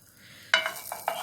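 Butter and olive oil fry in a pan at pizza-making time, with a brief close stir-and-scrape burst over a faint background sizzle, lasting barely a second.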